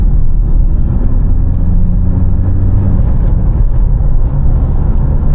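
A Tata Harrier Dark Edition SUV driving in city drive mode, a steady loud low engine and road rumble heard from inside the cabin, continuous with no speech.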